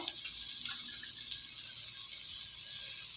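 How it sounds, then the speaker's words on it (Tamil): Water pours into a pot of rice and lentils with salt added, a faint, steady hissing splash that runs for about three seconds, close by and without talk. "தண்ணி விட்டுக்கிறேன்"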